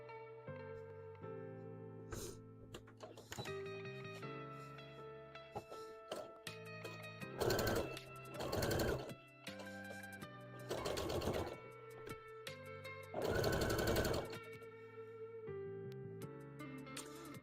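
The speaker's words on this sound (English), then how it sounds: "I'm just sewing this brown on right now for the tail" A sewing machine stitches brown fabric for a stuffed toy's tail, running in steady bursts with louder, faster stretches in between and short pauses, close and clear with no talking.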